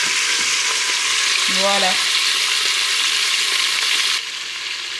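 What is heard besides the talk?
beef browning in hot oil and butter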